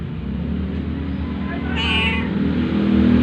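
A house cat meows loudly and close by, with a drawn-out, whiny call over a steady low engine-like rumble in the background.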